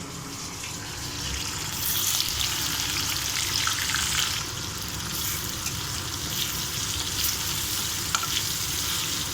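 Onions hit hot oil in a pan for chicken fry, giving a loud, dense, continuous frying hiss with small crackles and occasional scraping, close and steady throughout.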